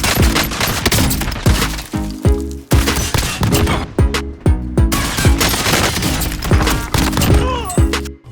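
Shotgun blasts from a Gallo SA12 in the Warzone video game fire in rapid, heavy succession, with many loud, close shots and impact cracks packed densely through the clip.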